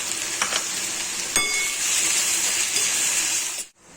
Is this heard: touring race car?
no